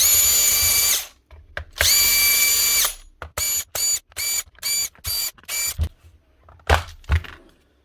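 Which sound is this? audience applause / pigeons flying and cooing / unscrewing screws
unscrewing screws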